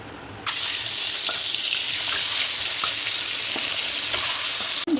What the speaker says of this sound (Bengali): এবার আমি ডিমটা হালকা করে ভেজে নেব।